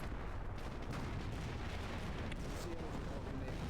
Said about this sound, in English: The artillery I called in is pretty inaccurate.